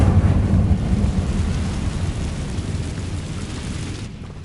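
Incendio fire spell cast in a Hogwarts video game, a loud rumbling whoosh of roaring flame that is heaviest at the start and slowly fades over several seconds, with no one talking.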